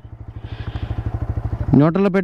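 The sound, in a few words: TVS Raider 125 motorcycle engine auto stop-start cutting off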